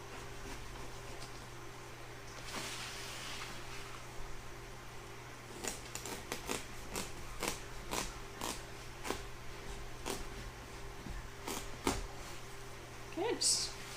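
A knife cuts through fruit for a baby-buggy fruit salad, giving a string of crisp, close clicks and slices in the second half over a steady low hum, with a low voice in the background.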